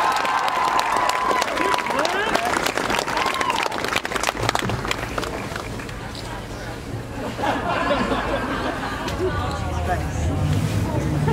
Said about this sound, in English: Let's give another big round of applause for our governor, Gretchen Whitmer.